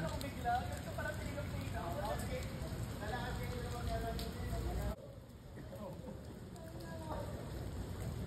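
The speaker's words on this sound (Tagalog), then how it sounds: "umuulan ngayon" Rain falls steadily at an outdoor wedding proposal at a Filipino heritage resort, a constant hiss and patter across the whole stretch, dipping briefly, with voices murmuring beneath it.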